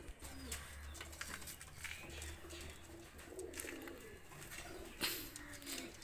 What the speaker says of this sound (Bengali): দুটা কবুতর ছেড়ে দেখাচ্ছি।